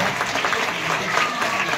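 An audience at a public gathering applauding, dense continuous clapping from many hands, fairly loud and sustained throughout without pause.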